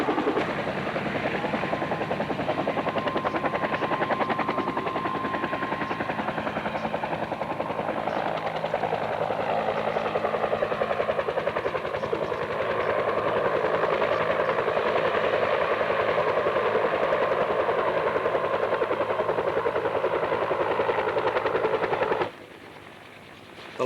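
An Iroquois helicopter's rotor thumps in a continuous, loud drone with a whining turbine, holding steady overhead at an airshow before cutting off abruptly near the end.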